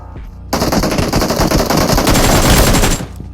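Automatic gunfire from the PUBG video game bursts in loud and close, a dense rapid rattle of shots that lasts about two and a half seconds and then cuts off.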